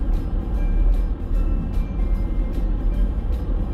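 Steady low road rumble of a car moving along a sparsely trafficked Toronto road before a snowstorm, a continuous drone with faint periodic hissing and no speech.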